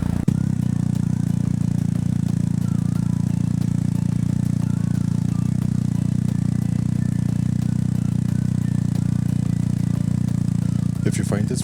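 BMW motorcycle engine idling steadily and close by after a battery fix, a loud continuous low rumble throughout with a brief clatter near the end.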